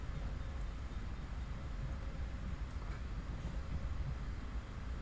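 Train rolling through a short shunt in Train Sim World, a steady low rumble with faint rail clatter throughout, close and continuous with no talk.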